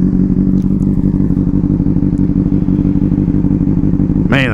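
A 2006 Honda CBR600RR sport motorcycle engine idles with a steady, loud low rumble after starting, then a sharp rising rev bursts in right at the end.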